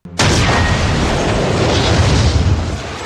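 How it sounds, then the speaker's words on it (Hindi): A loud, sudden bomb explosion bursts in and rolls into a sustained, roaring rumble that stays heavy and dense to the end. "एक बड़ा धमाका होता है"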